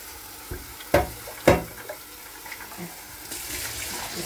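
Tap water splashes while a De'Longhi ECAM 650.85.MS espresso machine's water tank is rinsed at a sink, with a few sharp knocks of the plastic tank and a soft running trickle underneath, fairly quiet and close.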